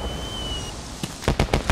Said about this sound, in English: Oh, yeah, fireworks.